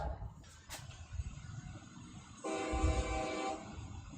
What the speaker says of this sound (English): There's a train passing Folkestone right now.